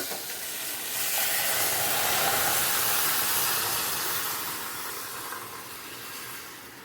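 Pressure cooker steaming sambar with drumstick and potato: a steady, loud, broad hiss of escaping steam that swells and then eases slightly, continuous throughout with no voices.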